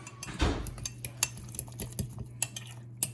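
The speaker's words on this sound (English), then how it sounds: "Then we're just going to grab any old thing, such as a fork. We're going to mix it all up." Fork mixing potatoes with oil and Parmesan in a dish, quick metallic scrapes and clinks against the bowl, close and crisp over a low steady hum.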